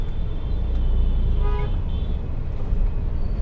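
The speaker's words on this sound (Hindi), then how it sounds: "जैसे ग्रीन हो गया, हॉर्न दे दो" A car horn gives a short honk in busy city traffic at a green signal, standing out briefly over a loud, steady rumble of engines and road noise.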